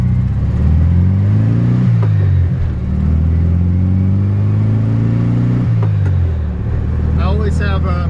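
A 1966 Volkswagen Beetle's air-cooled engine running close by, a steady low rumble that dips and rises with throttle changes, with a brief higher noise near the end.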